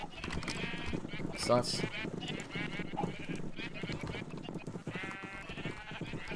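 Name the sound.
sheep bleating on a sheep farm in Globecraft video game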